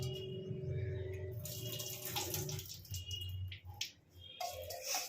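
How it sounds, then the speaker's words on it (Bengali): Washed rice and lentils are tipped into a rice cooker for khichdi with a quiet, close, wet splashing pour and light watery clatter. "চাল ডালটা দিয়ে দিলাম।"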